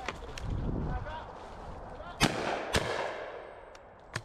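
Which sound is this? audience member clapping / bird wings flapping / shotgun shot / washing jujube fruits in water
shotgun shot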